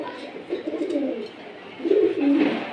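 Colouring Giribaj pigeons cooing close by in two soft, throaty bursts of rolling coos separated by a brief lull, with no talking.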